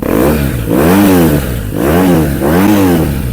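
A one-owner BMW R nineT motorcycle with about 4,200 km and its factory carbon exhaust revs three times, each loud, close blip rising and falling in pitch between short idle gaps.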